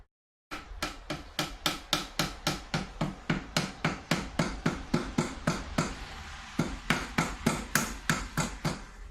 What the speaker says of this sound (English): Hammering in pieces of wood into other pieces of wood.